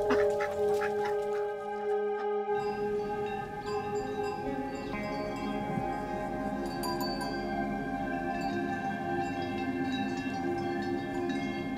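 Chickens clucking on a farm, a busy flock of fowl calls and squawks running throughout, close and fairly loud over a steady background.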